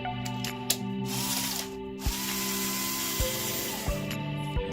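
Hair clippers being taken apart, the top blade head coming off as its screws are removed: a run of sharp clicks and metallic ratcheting taps against a steady low hum, with a few distinct clicks spaced across the stretch.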